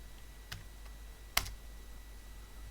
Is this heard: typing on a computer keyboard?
yes